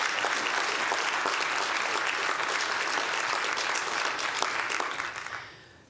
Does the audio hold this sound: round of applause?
yes